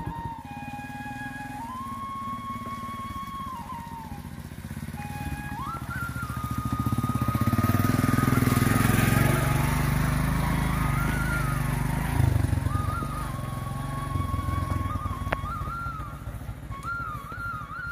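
A motorcycle climbs a steep, rough track in a village, its engine revving and labouring as it nears, growing loud in the middle and easing off again, with higher-pitched whine changes as it shifts through the climb.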